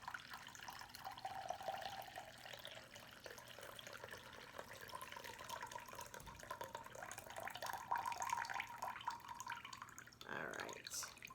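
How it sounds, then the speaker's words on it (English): Red cabbage pH indicator liquid is poured into containers with a thin, steady trickle that gurgles faintly for several seconds, then a brief splash, quiet and close. "I'm going to pour more in."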